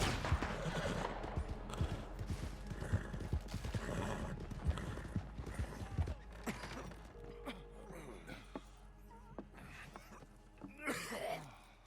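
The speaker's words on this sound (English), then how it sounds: "Mi caballo." A horse gallops in the Red Dead Redemption video game, with rapid irregular hoofbeats, creaks and scattered clatter running steadily and fairly close, briefly easing before picking up again.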